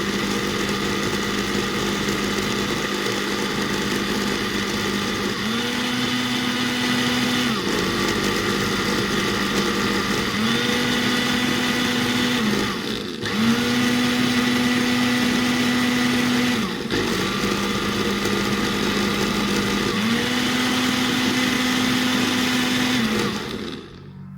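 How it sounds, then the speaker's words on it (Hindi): Mixer grinder whirring steadily as it grinds cardamom for elaichi milk, a loud continuous motor drone with periodic pitch rises as the load shifts, close and alone for over twenty seconds. "आप देख सकते हैं कितना ज़बरदस्त जो है वो ग्राइंड हो रही है।"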